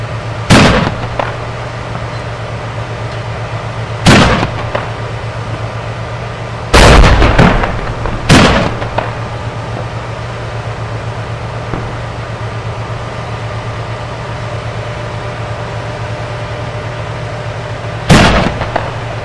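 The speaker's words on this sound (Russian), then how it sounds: "Экипаж боевой машины пехоты простреливает возможные позиции гранатометчиков" Heavy cannon shots from an infantry fighting vehicle firing on rebel positions in Syria: loud, sharp blasts in irregular clusters, a few close together, then a long pause before a final shot, over a steady engine drone.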